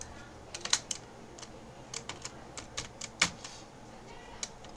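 Someone types on a computer keyboard in short, scattered bursts of crisp key clicks, close and fairly quiet, with no talking.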